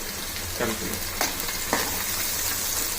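Onions fry in a pan with coriander and mint, a continuous bright sizzle with a few soft stirring clunks as the pan is mixed.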